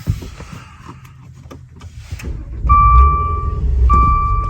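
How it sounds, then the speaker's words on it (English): A Maserati Levante GT engine starts with a low rumble that swells and holds steady, while electronic dashboard chimes beep twice over it, following soft clicks and cabin handling noises. "Now let's start up this engine."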